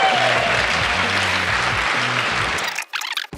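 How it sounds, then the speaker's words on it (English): An audience at the 2012 Mid-Atlantic Collegiate Cyber Defense Competition breaks into dense, loud applause that holds steady, then falls away abruptly near the end, leaving a few scattered sounds. "So a round of applause"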